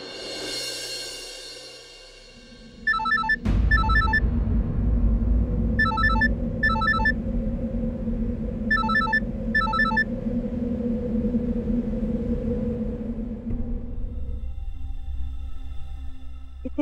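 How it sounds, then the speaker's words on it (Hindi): A landline telephone rings late at night in repeated double bursts, three clear rings over a steady low room hum, loud and close with no talking. "इतनी रात को कौन फोन कर रहा है?"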